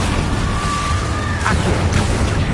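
A Confringo fire spell cast in the video game Hogwarts Legacy, a loud, dense, roaring blast with a rising whistle and a couple of sharp bursts near the end, sustained across the whole stretch.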